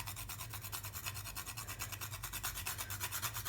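Whole nutmeg grated over the top of crumbly eggnog fudge, giving quiet, rhythmic rasping strokes, close and faint, with no talk.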